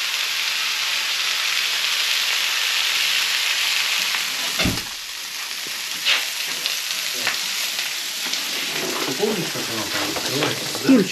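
Food frying in a pan, a loud continuous sizzle with a few clanks and stirring noises, and a voice talking in the latter part.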